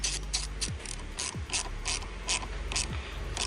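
A ratchet wrench tightening a fitting while a paddle shifter is installed in a Volkswagen Polo GT TSI: five or six quick bursts of close, crisp clicking at a steady rhythm, with no voices.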